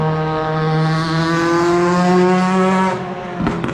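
Classic touring race cars, a BMW E30 and a Mercedes 190E, battle at the Nürburgring 24 Hours. One loud engine holds a sustained high-revving wail close by, then drops off sharply near the end as it shifts or backs off.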